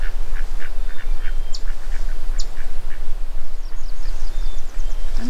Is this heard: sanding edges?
no